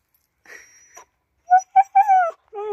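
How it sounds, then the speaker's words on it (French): An unhappy dog whimpers nearby in a string of thin, high, wavering whines, each rising and falling, with short gaps between them and no talking. "Il fait malheureux ce chien. Mais qu'est-ce qu'il est malheureux."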